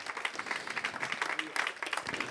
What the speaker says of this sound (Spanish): Dale fuertes aplausos.